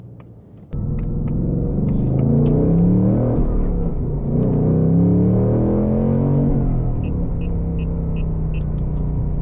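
Heard from inside the cabin, the engine of a Ford Mustang Dark Horse with a six-speed manual gearbox rumbles loudly. Its deep, sustained drone rises and falls in pitch as the driver shifts down through the gears, with no talking.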